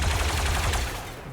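A blaster-style gunshot in the Star Wars Zero Company video game, a loud dense burst that rings briefly and fades over about a second.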